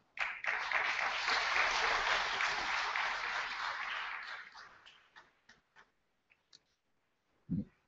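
An audience at a university board of governors meeting breaks into loud, sustained applause that fades after several seconds into scattered last claps, followed by a single dull knock.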